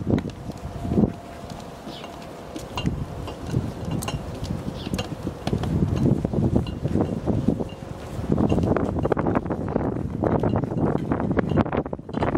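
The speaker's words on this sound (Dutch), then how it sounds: "Super veel wind, dat is niet normaal." Strong gusty wind buffets the microphone with a continuous roaring rush that swells and eases, growing louder in the second half, with faint rustling and occasional bird calls underneath.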